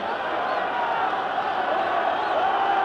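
Crowd at a 1968 rugby match between Wales and Argentina B in Argentina, a steady broad roar of excited spectators from a distance, sustained throughout without clear peaks.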